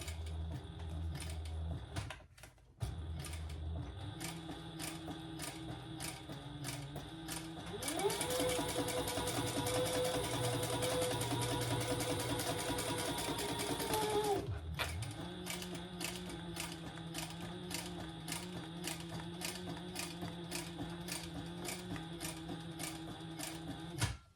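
A sewing machine stitches along the curved seams of a thick shoulder bag in steady mechanical runs, switching to a faster, higher whirring burst midway before returning to the slower, even stitching, close and continuous with no talk.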